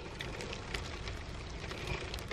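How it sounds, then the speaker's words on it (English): Hail and sleet falling outdoors in spring, a dense steady patter of small icy pellets striking surfaces all around, constant and soft with no voices. "It's actually starting to hail and snowy."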